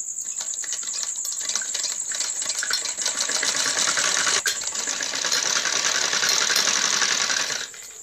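An electric sewing machine runs steadily while stitching a strip onto a kurti neckline, a fast continuous whirring needle clatter that holds for about seven seconds before stopping abruptly, close and alone.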